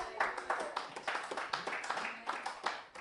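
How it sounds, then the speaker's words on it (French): Congregation in a church service claps in a steady rhythmic beat, loud and close, with voices mixed in under the clapping throughout. "Applaudissons pour le Seigneur."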